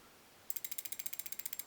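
Balisong knife with barrel spacers being flipped, a fast even run of about fifteen crisp metallic clicks starting after a short quiet pause, close and faint.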